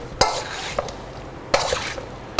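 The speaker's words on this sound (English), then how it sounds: "we need to take a spoon to that and mix it all up" A spoon mixes stale bread and tomato in a bowl, with sharp clinks against the bowl at the start and middle separated by wet, squelchy stirring, close and fairly loud.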